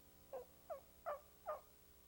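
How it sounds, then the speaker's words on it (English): A wild turkey gobbling back in answer to a call, four short rolling bursts spaced about evenly apart, faint and distant with nothing else over them. "Then he gobbles. He's heard me."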